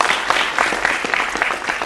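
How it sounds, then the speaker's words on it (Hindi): A television studio audience welcomes a guest with brief, dense clapping, loud and close, sustained evenly for about two seconds. "Colonel retired Shailendra Singh defence expert के तौर पर हमारे साथ हैं, तालियों के साथ का स्वागत कीजिए।"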